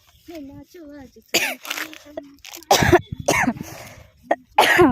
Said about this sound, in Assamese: কাহ লাগিছে